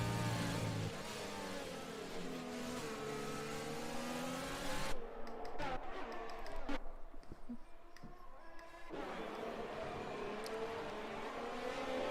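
F1 race car engines from the game F1 2020 at the Dutch Grand Prix, a high whining engine note that shifts pitch as cars pass, with a brief quieter gap mid-way, faint and steady.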